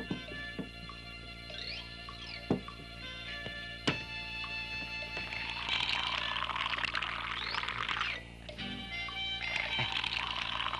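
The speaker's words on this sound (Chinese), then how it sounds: "撒泡尿啊！" A man urinates: a few soft thuds, then a steady, splashing stream of liquid that pours for several seconds, breaks off briefly and resumes. The sound is moderately faint and continuous, with no talk over it.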